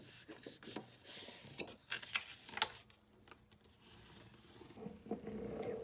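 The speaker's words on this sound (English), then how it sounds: "And then fold that first line, burnish," Paper being creased and burnished along a fold line for a tea party themed mini album, heard as close, soft rubbing and scraping strokes with brief rasping bursts and quiet taps between them.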